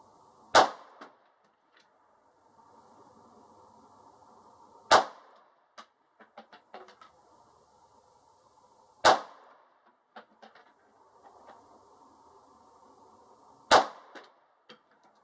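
Four sharp gunshots from a Ruger Security 9 pistol firing bulk ammo, evenly spaced about four seconds apart outdoors, each a loud crack with faint metallic pings and clinks between shots.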